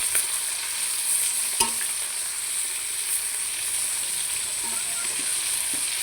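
Tilapia fish fry in hot mustard oil in a pan, a steady high sizzle with an occasional sharp clink of a utensil, close and unaccompanied by talk.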